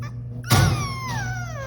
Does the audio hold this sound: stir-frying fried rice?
no